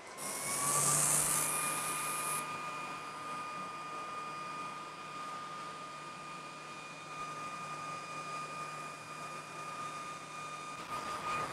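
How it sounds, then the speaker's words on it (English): A dust extraction system runs for a ComMarker B4 20W fiber laser engraver, giving a steady, loud whooshing drone with a high whine throughout, briefly louder at the start. "Get our dust extraction going, and let's send this off and start the color test."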